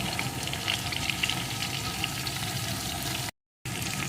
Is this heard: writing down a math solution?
no